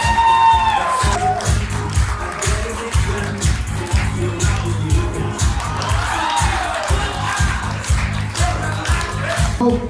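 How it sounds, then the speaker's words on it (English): A wedding reception crowd cheers and applauds groomsmen and bridesmaids being introduced, with loud continuous clapping, whoops and shouting up close and a voice talking over the noise. "Can I please have a big round of applause for Julian and Margaret?"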